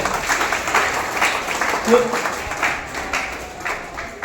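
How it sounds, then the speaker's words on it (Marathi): Steady crowd applause for school students honored for competition success fills the space, with many hands clapping continuously at moderate loudness, and a voice faintly audible beneath. "आपण सर्वांनी एकदा जोरदार टाळ्या वाजवून त्यांना प्रोत्साहन द्यावं"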